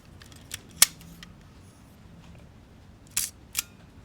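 An Agfa Silette I film camera fires its shutter at 1/30 second, giving sharp mechanical clicks near the microphone, a distinct snap followed later by a quick pair of clicks in a quiet room.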